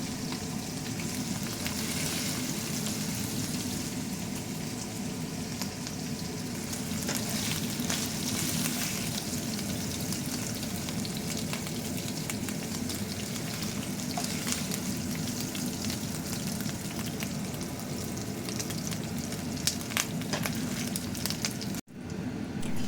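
Garlic and onion sauté in a frying pan of leftover oil from frying beef for bistek tagalog, giving a steady, close sizzle and crackle that runs unbroken with faint stirring.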